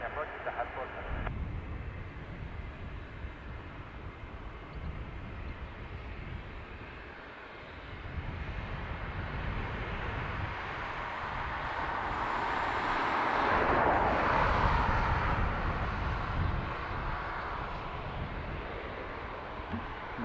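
An airliner takes off at Dublin Airport, a broad jet engine roar that holds steady and then swells toward a peak in the second half before easing slightly, heard from a distance, with faint radio chatter.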